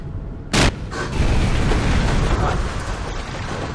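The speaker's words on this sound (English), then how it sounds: "Dude, stop with the rockets." Rocket launcher explosions in the Far Cry Instincts video game: a sharp blast followed by a heavy, rumbling roar that lingers and slowly fades.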